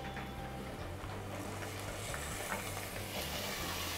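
Tomatoes go into frying onion for kadla curry, and a steady low sizzle runs under soft stirring and scraping, quiet and continuous, with no speech.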